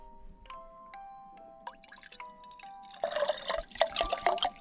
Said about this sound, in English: Sorry, I'm pouring myself some more tea.